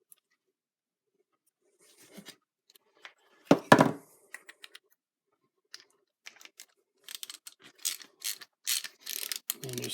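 A ratchet clicks while tightening a bolt on a Farmall Cub tractor's hydraulic pump, close up, in short sparse bursts at first and then longer rapid runs of clicking.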